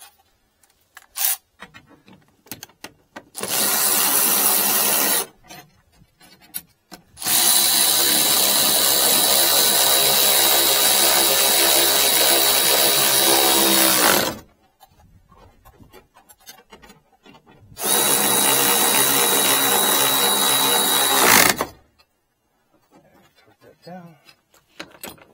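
Power tool tightening seatbelt bolts inside a 2009-2014 Ford F-150 extended cab, heard as three loud close whirring bursts of a few seconds each, separated by quiet gaps with small handling noises.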